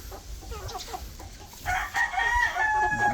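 A rooster, a heavy breeding cock on a small backyard chicken farm, crows once, loud and close, after a stretch of quieter farmyard clucking and rustle.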